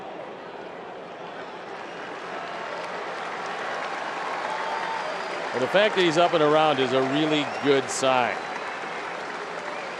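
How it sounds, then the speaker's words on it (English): Fans at a 2021 Oakland Athletics vs Chicago White Sox baseball game applaud an injured player who has gotten back up. The broad, sustained stadium applause runs under a broadcaster's commentary and swells briefly near the end. "Fans here, give him a round of applause."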